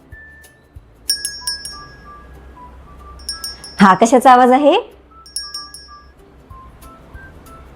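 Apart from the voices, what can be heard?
bicycle bell ringing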